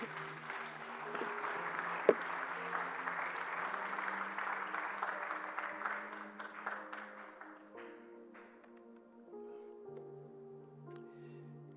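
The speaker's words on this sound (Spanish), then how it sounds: "¿Cuánto le dan un aplauso al Señor?" A church congregation applauds the Lord with a soft, distant wash of clapping that thins out and fades after several seconds, leaving sustained instrumental tones beneath.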